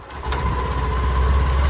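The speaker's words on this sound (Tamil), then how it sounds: "ஸ்டார்ட் ஆகிற சவுண்ட் உங்களுக்கு கேட்டுச்சிங்களா?" A BS6 motorbike engine catches and settles into a steady, close, low running drone that continues to the end, with no talking.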